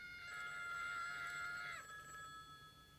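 A telephone rings with a sustained electronic bell tone in a scene from the 1994 Wes Craven's New Nightmare film, ringing steadily for about a second and a half before cutting off, then leaving faint residual tones.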